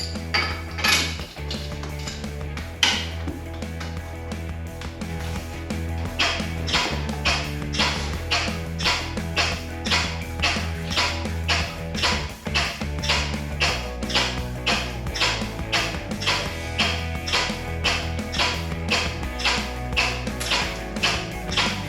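Barrel-aged maple syrup running through a filter press into a canner, heard as a steady mechanical hum under a long series of regular metallic clicks and clinks, fairly close and continuous.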